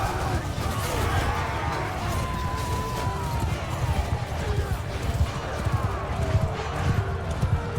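Cavalry horses galloping in the Mount & Blade 2 Bannerlord video game, a dense rumble of hoofbeats mixed with battle clatter and crashes, sustained and fairly close throughout.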